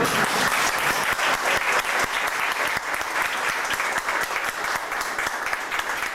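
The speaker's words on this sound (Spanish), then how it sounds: "pienso que le tendríamos que dar un aplauso" Steady, close applause from a conference audience at a 1995 talk on managing the Delicias Railway Museum, a continuous crackle of many hands clapping at even loudness throughout.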